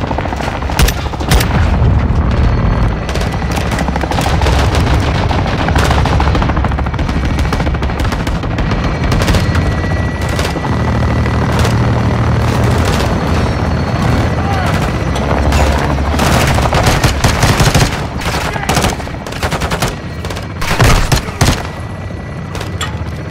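A requested fire strike in Call of Duty Modern Warfare 2 (2022) unleashes dense, loud gunfire, with rapid automatic bursts and heavy booms pounding almost without pause.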